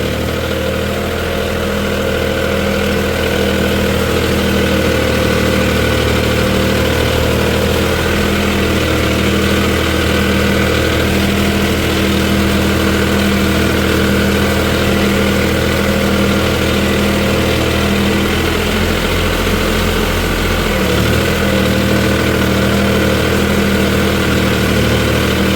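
A Mahindra OJA 3140 40 HP 4WD tractor engine idles steadily and loudly close by, a constant low throbbing hum, with a brief dip in pitch near the end.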